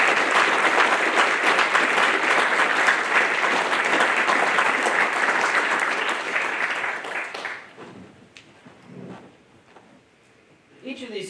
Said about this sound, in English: please join me in a round of applause for the Navy's newest third-class petty officer.